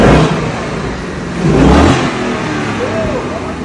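A 2024 Ford Mustang 5.0 RTR V8 revs loudly and close, its engine roar rising to a peak midway then settling back to a rumbling idle, with voices mixed in.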